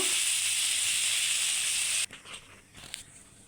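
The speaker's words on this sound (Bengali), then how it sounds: "খুব ভালো করে ভেজে তারপর এটাকে তেলের থেকে উঠিয়ে দেব।" A vegetable frying hard in hot oil before being mashed into a bharta: a loud, steady hiss for about two seconds, then a quieter stretch with faint crackles.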